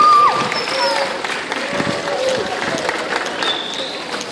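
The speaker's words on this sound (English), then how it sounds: "I got a round of applause for our volunteers" Applause from an audience at Sea World on the Gold Coast, Australia, for volunteers, broad and steady for several seconds, with crowd noise mixed in.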